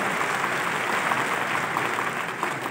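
An audience claps steadily in a dense, even burst of applause, with no talk over it.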